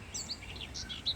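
A small bird chirps in a quick series of short, bright tweets, fairly faint and alone against a quiet background.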